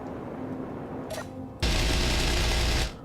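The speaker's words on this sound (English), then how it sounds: "he also made this amazing Gatling cannon" A modded Gatling cannon in the video game Space Engineers fires one sustained, dense burst of just over a second, loud and close after a quieter lead-in of mechanical hum.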